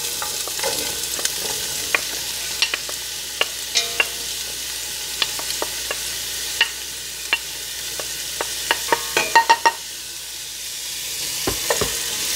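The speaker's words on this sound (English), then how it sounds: "I'm going to saute these over a medium heat for about 3 minutes until the onions are nice and soft." Onions sauté in a pan over medium heat, a steady close sizzle with scattered crackles and the occasional scrape of stirring.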